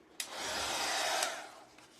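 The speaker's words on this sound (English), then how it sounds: "Okay, the dryer can't be far" A hair dryer blows steadily on a decoupaged motorcycle part, close and loud for about a second and a half, clicking on and off at each end.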